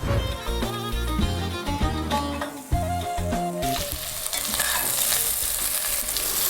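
Lamb shank searing in a hot pan, a broad steady hiss of frying that rises and fills the later part, following a stretch of melodic background music, heard close with no talking.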